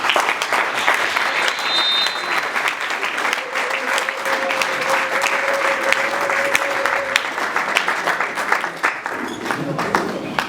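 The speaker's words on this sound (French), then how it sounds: "nous allons aussi applaudir pour eux" Guests at a surprise birthday party give loud, sustained applause that fills the room, dense clapping running throughout with a faint tone and crowd voices woven underneath.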